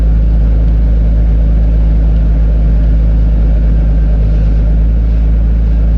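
A Nissan Skyline's RB25 engine idles steadily with the steering turned to full lock, after an auxiliary belt replacement; a loud, even, low mechanical hum continues throughout with no revving.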